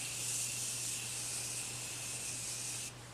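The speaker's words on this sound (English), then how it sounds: "this is the Morphe setting spray" Morphe setting spray mists out in one long, steady hiss lasting close to three seconds, close and fairly quiet, then cuts off abruptly.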